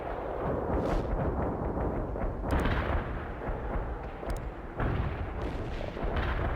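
Artillery barrage in the real-time strategy game World in Conflict: continuous rumbling bombardment with heavy low-end booms, punctuated by a few sharper blasts, dense and loud throughout with no voices.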